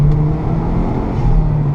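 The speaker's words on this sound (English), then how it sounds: "When you're getting on it and you've got the little blow-off valve sound" Mazdaspeed 3 turbocharged hatchback accelerating hard, a steady loud engine drone with turbo whoosh close up, with no clear separate blow-off hiss.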